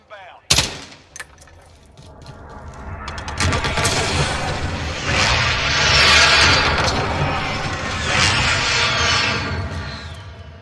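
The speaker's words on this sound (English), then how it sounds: "Be advised, friendly precision airstrike inbound." A friendly precision airstrike lands in Call of Duty: a sharp crack opens it, then a long swelling roar of blasts and rumbling rises and stays loud, with gunfire and voices mixed in.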